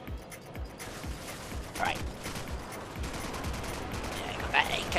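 Faint rapid AK-47 fire in Call of Duty 4: Modern Warfare, steady repeated shots beneath a speaking voice and game clatter.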